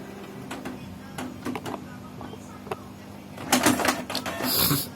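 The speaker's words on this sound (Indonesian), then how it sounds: "ini dia sudah mulai keluar tandanya printer ini sudah bisa digunakan ya, sudah normal" A Canon MP237 inkjet printer, repaired after a paper jam fault, starts printing a page: scattered mechanical clicks and ticks, then louder whirring feed and carriage movement near the end, with no one speaking.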